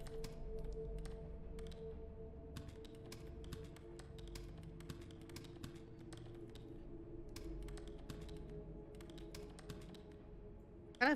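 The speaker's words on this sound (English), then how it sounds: "I'm just gonna keep right all typing." Computer keyboard typing in a quiet room, with steady irregular key taps and clacks running throughout over a low constant hum, fairly close and moderately loud.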